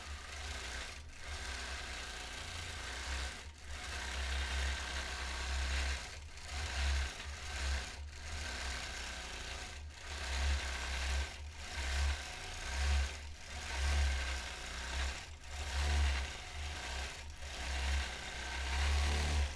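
A quilting sewing machine bastes down the sides of a quilt with a steady mechanical hum, punctuated by regular clicks roughly every two seconds; no voices.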